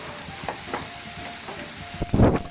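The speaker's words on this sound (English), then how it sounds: "Keep stirring. You see that water is being released from the onions." Grated onions sizzle and fry in a pan while being stirred, with soft scraping strokes and a louder burst of sizzle near the end, no voices.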